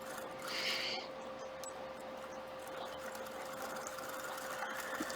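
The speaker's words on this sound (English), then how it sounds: "I'm sewing just off, embroidering just off onto that batting." A sewing machine embroiders stitches onto quilt batting, a steady low mechanical hum with a constant whine and faint rhythmic whirring, running alone and fairly quiet throughout.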